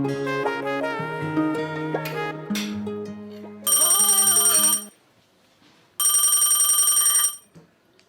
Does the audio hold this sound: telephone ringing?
yes